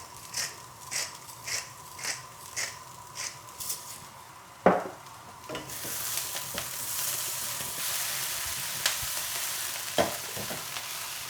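Onions frying in a pan for a satay madras curry, first a rhythmic series of stirring scrapes, then a sharp knock and a louder continuous sizzle with occasional spoon clinks, no speech.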